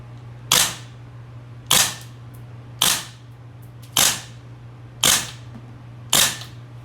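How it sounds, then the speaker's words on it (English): GHK MK18 MOD1 gas blowback airsoft rifle firing six single shots at a slow, even pace, each a sharp loud crack with a short tail over a steady low hum, no voices. "We're going to take a few shots and see what the meters per second, or actually feet per second is."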